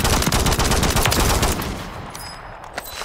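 Loud, dense sniper rifle gunfire in a Call of Duty match, with rapid overlapping shots and booming reports for over a second, then fading into a quieter tail with a faint late crack.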